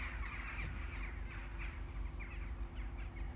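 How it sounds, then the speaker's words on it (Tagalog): Many small birds call together at dusk on a winter evening, a dense continuous chatter of overlapping chirps and caws held steady throughout at moderate distance. "Oh, ang daming ibon."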